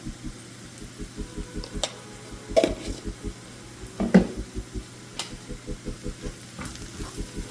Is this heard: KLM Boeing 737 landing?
no